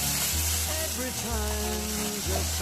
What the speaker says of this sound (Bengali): এই খারকোল পাতা বাটাটা আমি সরষের তেলে নেড়ে নেবো